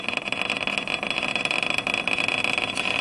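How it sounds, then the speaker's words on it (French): A three-phase electric motor's rotor spins with a steady, close whine over a dense broadband hum that holds level throughout. "Et on a le rotor qui vibre, là, et je vais augmenter la vitesse de rotation."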